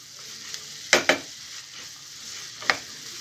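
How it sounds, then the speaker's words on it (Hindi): Fresh green peas being stirred into sizzling egg bhurji in a pan: a soft frying hiss with a few quick scraping strokes, two close together early and one more near the end, with no talking. "इनको भी थोड़ा बीच में मिक्स कर देंगे ऐसे"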